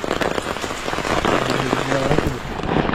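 Heavy rain falling steadily on a surface on a downpour day, a dense, loud, continuous patter of close drops with no talk over it.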